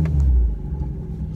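A 1981 Toyota Corolla SR5 liftback engine rumbles at low idle or slow driving pace, a steady close, deep hum with a slight rise near the start and no talking.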